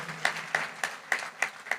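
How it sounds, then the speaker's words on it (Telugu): A congregation at a sermon claps in a steady, even rhythm, six crisp claps spaced about a third of a second apart, moderately distant and with no voices. "నమ్మితే గట్టిగా చప్పట్లు కొట్టి దేవుని మహిమపరచు"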